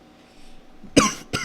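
Two sharp coughs, the first louder, close to the microphone after a brief quiet stretch.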